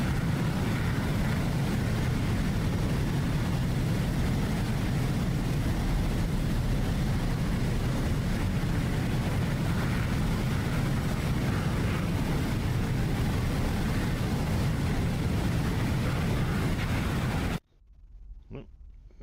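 Jet engines of a Mirage and a Hornet in a DCS flight-simulator practice fight give a steady, loud, broadband roar for about seventeen seconds, then cut abruptly to near silence with a faint tone.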